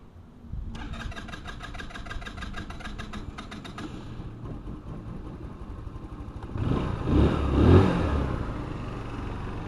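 A Lingyu MC-75 150cc scooter engine cranks with a rapid starter whir, catches, and settles into a steady idle, with a brief louder swell partway through, close and unaccompanied by talk.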